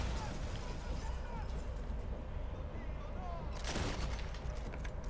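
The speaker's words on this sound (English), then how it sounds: "Ah, I'm getting shot at." Gunfire crackles in Sniper Elite 4 under a dense, steady game soundscape, with a louder burst of shots near the end and players talking over it.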